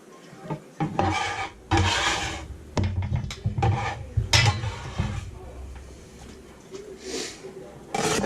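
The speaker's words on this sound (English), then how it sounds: "let's get our onion and green pepper, dump it on in" Chopped onion and green pepper tumble into a pot of canned BBQ beans for Pit Boss BBQ beans, with scraping and rubbing against the metal pot, clinks of a utensil and rustling stirs under a voice.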